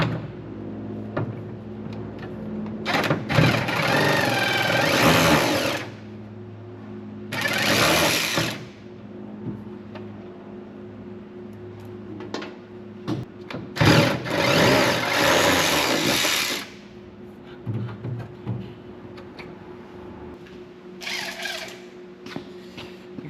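Cordless DeWalt ratchet backing out the hood bolts on a 1970 Johnson Skeehorse snowmobile, heard as three close, loud whirring bursts of a few seconds each with short quieter whirs between, over a steady low hum.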